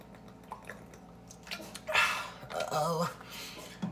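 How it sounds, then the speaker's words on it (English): A person drinks water, with close, wet sips and swallowing gulps building over a few seconds, alone and without talk. "Let's drink for four seconds."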